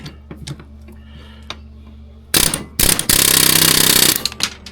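A pneumatic hammer bit rattling hard against a Polaris Xtra10 skid part on a 1999 Polaris XCR800 snowmobile, two loud bursts of rapid hammering after some quiet shop ticking, with no talking.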